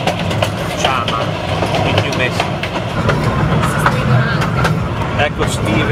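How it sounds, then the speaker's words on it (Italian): A steam train runs across the plain near Antonito, Colorado, on the line to Chama, giving a steady broad rumble with faint rhythmic clatter, close and continuous, with people talking over it. "dove siamo appena partiti, col treno a vapore"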